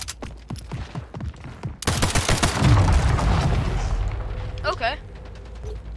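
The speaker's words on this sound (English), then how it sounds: "Man, just straight up rocket launcher killed me." Rocket launcher blast in the arena shooter Splitgate: a sudden loud explosion with a heavy rumbling boom, layered over game gunfire and effects, followed by a fading tail and brief electronic chirps.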